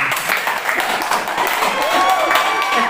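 Applause and clapping from a small group, a steady dense patter lasting a few seconds with some crowd voices mixed in.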